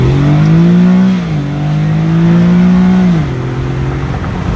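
An Infiniti G37 sedan's engine revs hard under heavier throttle, its loud, rising drone climbing through gears with two distinct pitch drops at the shifts, close and dominant throughout.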